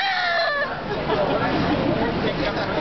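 A human voice mimics a rooster's crow, a loud drawn-out call that slides downward and fades into breathy noise.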